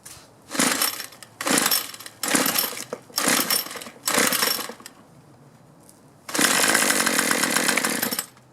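A gas string trimmer that is hard to start and runs poorly due to fuel problems: five short pull-start bursts of sputtering engine noise, then the engine catches and runs for a couple of seconds at a loud, rough, uneven pitch.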